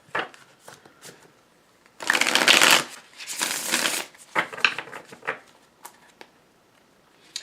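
A deck of tarot cards is shuffled close by in quiet surroundings, with soft riffling bursts and brief papery flutters coming in uneven clusters and no one talking.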